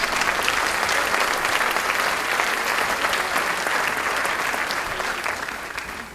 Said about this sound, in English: Big hand of applause for Dr. Bartels.